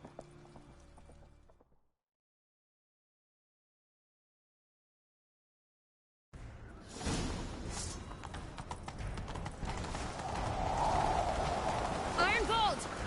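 Galloping horses in a chase within the video game Sekiro, rapid hoofbeats pounding under dialogue, preceded by a short stretch of other game audio and a few seconds of silence.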